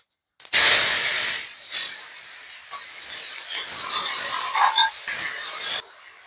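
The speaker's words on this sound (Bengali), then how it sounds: "এবার পাতাগুলো আমি তেলে দিয়ে দেবো" Tender tamarind leaves drop into hot mustard oil with a sudden loud hiss that settles into a steady, crackling sizzle, rising and falling in small bursts over several seconds, no voices.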